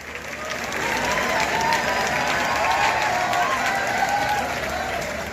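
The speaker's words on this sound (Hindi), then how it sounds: "एक बार जोरदार ताली लवली लेडी के लिए" A crowd at a college annual function and award ceremony applauds a lady, the clapping swelling in after a quiet start and holding as a loud, dense, sustained ovation with a few cheers mixed in.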